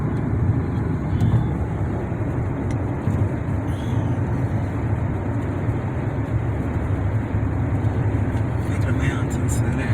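Steady road and engine drone inside a car cruising on a highway through mountains in Panama, continuous and even throughout with no clear voices.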